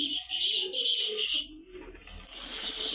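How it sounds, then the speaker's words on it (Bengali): Giribaz tumbler pigeons at a pigeon farm beat their wings in a close, busy flurry, with soft bird calls mixed into a continuous fluttering rush. "এখানে এইগুলো সব দেখতে পাচ্ছেন, সব গিরিবাজ কবুতর।"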